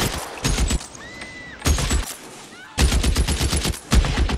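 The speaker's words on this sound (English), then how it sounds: "That's a serious gun, dude." Heavy gunfire from the video game LA Noire, loud rapid bursts of automatic shots in several volleys with brief pauses between.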